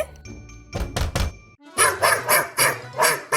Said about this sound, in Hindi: कुत्ता? क्या?